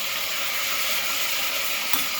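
Peanuts stirred into masala khichdi in a hot pan, a steady, loud sizzling hiss with faint scraping throughout.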